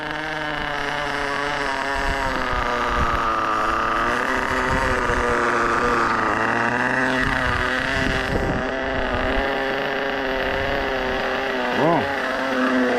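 A Sirio S12 evo3 model car engine idling slightly too high, a steady buzzing drone with wavering harmonics held throughout, close to the microphone with some wind noise.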